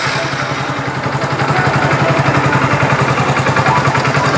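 A motorcycle engine catches on the electric starter with the clutch pulled and settles into a steady, rapid idling putter, close and fairly loud.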